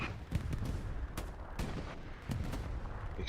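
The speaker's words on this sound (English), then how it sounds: "Explosions everywhere" Distant gunfire and explosions sound in the Hell Let Loose game's competitive battle, with scattered sharp cracks and booms over a constant low rumble of battle, fairly faint.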